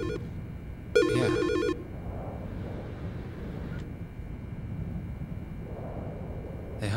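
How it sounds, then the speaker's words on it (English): A telephone rings with two short electronic trilling bursts, the second longer and louder, then stops, leaving a low steady hum and murmuring room noise. "Sir? You gonna answer your phone?"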